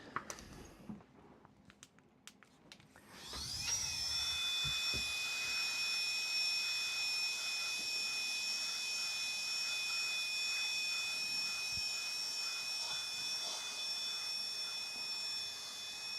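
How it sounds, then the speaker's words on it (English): A small handheld air blower runs steadily for about twelve seconds after a few brief clicks, a loud, constant whine blowing over a hot graphics card during a desktop PC repair. "I'm gonna get my little blower and give it a little bit of a"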